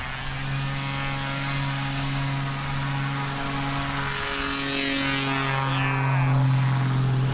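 The engine of a Super Rebel light airplane drones loud and steady with strong tonal harmonics, its pitch rising near the end.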